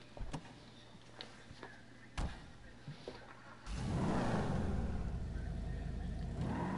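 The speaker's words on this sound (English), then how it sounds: "I'm going to drive my signature vehicle." A car engine in a civilian roleplay driving game starts partway through with a steady, loud, rumbling drone that holds to the end, after a few scattered clicks and taps.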